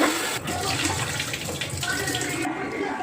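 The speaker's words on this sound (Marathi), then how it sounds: "3-4 पाण्याने स्वच्छ धुतले आणि काढून घ्यायचे" Soaked rice being washed in water for anarse, with a continuous splashing, running-water sound close up and a voice speaking over it.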